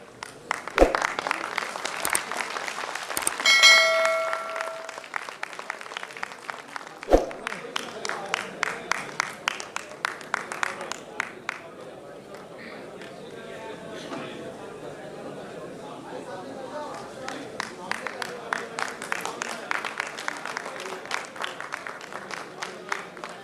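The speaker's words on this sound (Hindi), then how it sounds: "एक जोरदार तालियों से एक बार खड़े होकर अभिनंदन स्वागत कर दीजिए" An audience at a political felicitation gathering in a Delhi hall gives a standing ovation, with dense sustained applause and sharp rhythmic clapping that rises, thins, then swells again for over twenty seconds under a loudspeaker voice.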